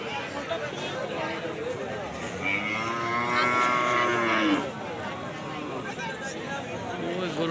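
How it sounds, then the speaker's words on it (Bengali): Cattle moo in a long, loud, drawn-out call at a busy cattle and goat market in Rajarhat, where black and local desi bulls are gathered. The call rises over a steady crowd hubbub and nearby voices. "ওই দেখো কালো গরুগুলো অনেক।"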